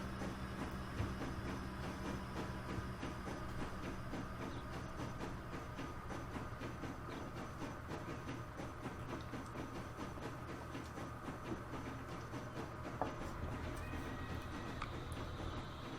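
Trains run in the railway simulation video game Transport Fever 2 on a UK map, a faint steady rumble and rhythmic clatter of rolling stock continuing for the whole stretch without pause.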